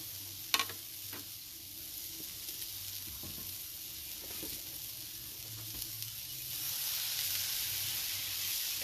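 Smashburger patties sizzling on a grill, a soft steady frying hiss with scattered metallic scrapes and taps as the patties are pressed flat, the sizzle swelling louder near the end.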